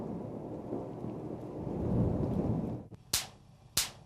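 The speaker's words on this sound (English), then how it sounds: "Lightning is a dramatic natural force." Thunder from a lightning storm rumbles steadily with rain in the background, then two sharp, loud cracks strike close by near the end.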